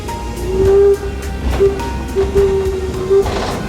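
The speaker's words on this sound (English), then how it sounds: "Here's a train that takes you around the perimeter of the park." Park train running a loop around the perimeter of a historic village museum, with low rumbling wheels and a few sustained horn-like tones, fairly close and loud.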